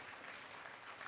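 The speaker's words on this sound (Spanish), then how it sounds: "les damos un fuerte aplauso de bienvenida" An audience at an interdenominational prophetic conference breaks into applause to welcome first-time attendees: a steady, dense wash of clapping from a crowd, filling the whole moment with no voices over it.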